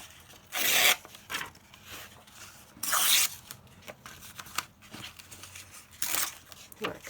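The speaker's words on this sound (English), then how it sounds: "So I'm just going to rip the book page randomly." Book page torn by hand in a papercraft session, giving several sharp bursts of tearing paper, each about half a second, spaced a few seconds apart and close to the microphone, with quieter rustling between them.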